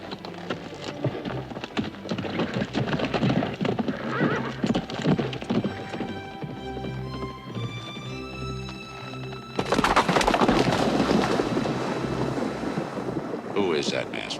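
A horse gallops across open plains with fast rhythmic hoofbeats and a loud whinny, wind rushing around it and dramatic orchestral music swelling in the background, the galloping growing louder toward the end.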